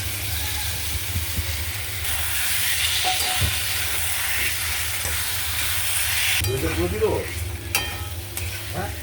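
Chicken meat frying with spices in a pan, a steady close sizzle with stirring and scraping throughout, growing busier and louder toward the end.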